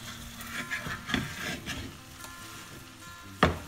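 Hakka noodles being tossed and stirred with tomato sauce in a pan give soft, irregular scraping and sizzling strokes, fairly close, ending with one sharper knock of the utensil against the pan.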